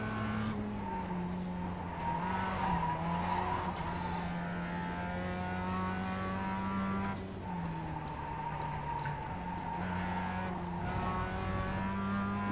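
Mazda race car lapping Brands Hatch in iRacing, a loud sustained engine drone whose pitch dips under braking and climbs again through the gears, with no talk over it.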